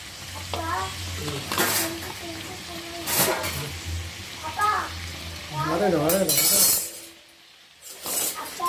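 Ginger garlic paste and poppy seeds sauté in a pan with steady sizzling and occasional spoon scrapes and clinks against the metal, close by, while people talk over it.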